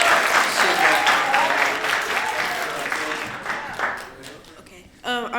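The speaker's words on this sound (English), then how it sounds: "Give a big round of applause" Audience applause at a school spoken word poetry competition as a participant approaches the stage, dense steady clapping that fades toward the end before a voice begins.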